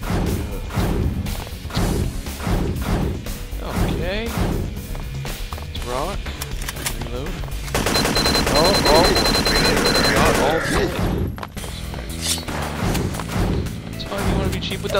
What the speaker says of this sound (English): With that little shotgun